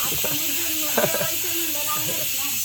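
Steady high-pitched steam hiss runs throughout, loud and continuous, while people talk underneath.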